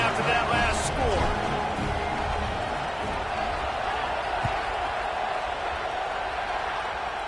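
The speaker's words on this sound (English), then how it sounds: "this crowd is buzzing after that last score" Broadband crowd noise from a stadium in an NCAA football video game builds after a score, a steady roar heard under a commentator's voice.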